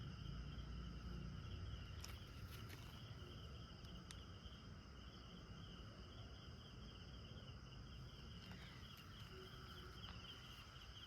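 Frogs calling at night around a village, a steady insect-like chirring drone with faint high trills over a continuous low rumble, moderately distant and unbroken throughout.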